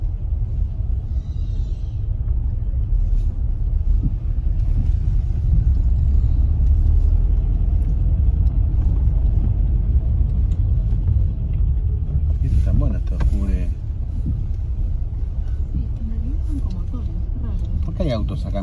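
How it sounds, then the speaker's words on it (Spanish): Steady rumble of cars passing on a street in Mar Azul by day, a continuous low roar of traffic with a voice talking over it partway through. "Acá me llama la atención que haya autos."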